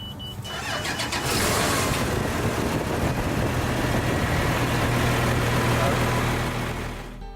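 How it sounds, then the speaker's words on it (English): A Broadcaster 2 pumping station engine cranks and fires, then settles into a steady, loud idle with a continuous low rumble that fades slightly at the end. "And now our engine is actually started"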